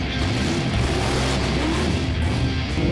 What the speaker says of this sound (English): sorry about the noise here, but currently we have an engine on the dyno